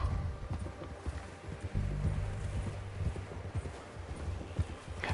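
Horse hooves clip-clopping in the Western video game Red Dead Redemption 2, a steady close rhythm of hoofbeats over faint ambient background, no talk.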